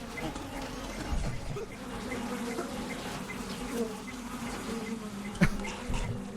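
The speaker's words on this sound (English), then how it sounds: "I hear a buzzing noise inside the car. The bees!" Swarming bees buzz inside a car in the horror video game Welcome to the Dark Place, a steady close droning hum with a faint voice in the background.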